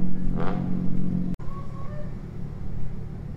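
A car engine revs at a drift event, with loud broadband engine roar and a brief rising whine, cut by a sudden momentary dropout midway before the steady rumble resumes.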